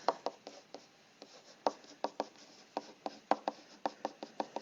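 Marker or chalk strokes on a board while working algebra math, a series of short, crisp taps and scratches in an uneven rhythm, close and fairly quiet, with no talking.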